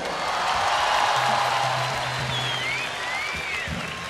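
Festival audience at Viña del Mar applauding a band, a broad steady wash of clapping and crowd noise over faint whistles and a low hum, sustained throughout.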